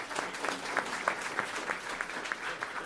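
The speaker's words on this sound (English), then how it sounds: "Let's give our panel a round of applause." Steady applause from a live debate audience saluting a panel discussion on France, sustained clapping with individual claps standing out at a moderate distance.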